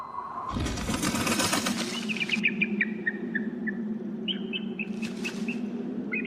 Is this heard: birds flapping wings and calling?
yes